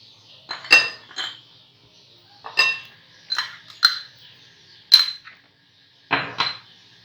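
A utensil clinks and scrapes against a bowl mixing pakora batter of maida, besan and cornflour, in short bursts, about eight separate strokes with brief quiet gaps, close and fairly loud.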